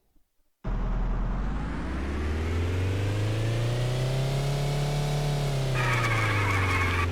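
A game car in a Godot-built drifting game starts with a sudden engine roar that rises and falls in pitch as it revs steadily, with a squealing tire screech joining near the end.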